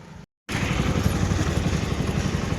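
Motorcycle engine running steadily and loudly, with a rhythmic low throb close by after a brief cut to silence, as a rider heads off toward college.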